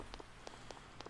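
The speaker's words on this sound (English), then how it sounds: "it's raining" Rain in the video game Persona 4 falls as a faint, steady patter with a few soft droplet ticks, quiet and even throughout.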